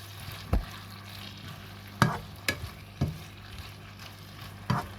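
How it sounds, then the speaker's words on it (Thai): Tomatoes stir-fried with chicken and ginger in a pan, a steady close sizzle broken by several sharp scrapes and knocks of the spatula against the pan at irregular intervals. "ก็จะใส่มะเขือเทศลงไปผัดด้วยนะคะ"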